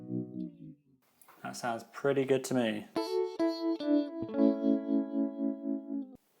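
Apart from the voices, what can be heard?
harmonic tremolo guitar pedal effect built in JavaScript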